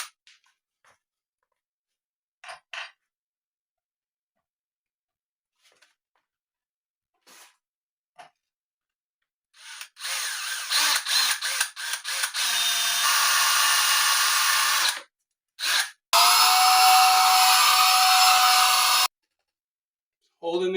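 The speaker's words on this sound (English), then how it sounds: "I'm just going to drill out that hole" After scattered quiet taps and clicks, a power drill bores out a hole in a wooden guitar body, whining in several bursts, then running steadily for a few seconds, close and loud.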